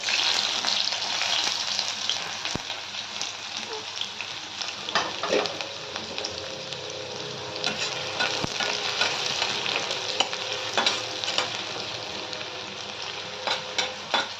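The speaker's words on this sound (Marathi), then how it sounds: "तेल गरम झालेलं आहे, त्याच्यात कांदा टाकते।" Onion dropped into hot oil for a spicy prawn curry sizzles continuously up close, with occasional scraping stir strokes in the pan.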